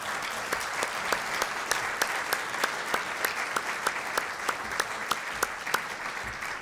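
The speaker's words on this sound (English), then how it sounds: "I want to give this, this lady a round of applause that she deserves" A round of applause from the audience at an agriculture and food policy summit, steady and dense, with a few louder individual claps standing out in a regular rhythm throughout.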